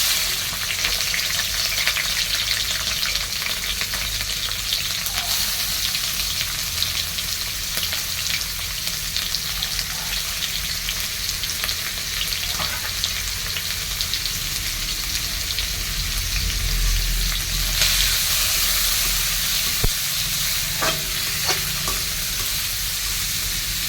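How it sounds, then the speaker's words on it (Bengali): Prawns fry in a pan with a continuous loud sizzle and crackle for the whole stretch, with occasional scrapes and clinks of stirring and no talking. "এখন চিংড়ি মাছটা ভাজবো।"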